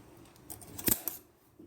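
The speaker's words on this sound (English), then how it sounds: "I'm cutting the two sleeves together because of time" Scissors snip through two layers of fabric sleeves at once, one sharp close cut in near quiet.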